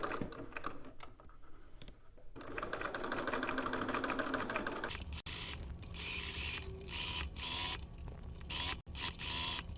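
A sewing machine stitches down elastic, running in a dense mechanical whir that speeds into louder rapid bursts, with brief stops in between.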